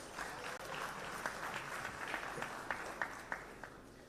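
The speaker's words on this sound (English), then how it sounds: "give a round of applause to Indian cuisine if you guys believe this." Applause from the audience at an Indian restaurant summit in Kolkata, a faint, steady patter of many hands with a few sharper claps standing out.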